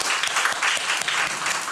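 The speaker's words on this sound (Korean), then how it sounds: "우리 반주해 준 우리 초등부모님들에게 박수 한번 보내주십시오" A church congregation at a Sunday service claps together, a dense, steady burst of applause that sounds fairly close and fills the whole moment.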